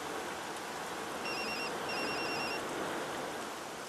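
A mobile phone rings with a call from an unknown number, two short electronic ringtone bursts heard faintly over a loud, steady wash of rain-like hiss.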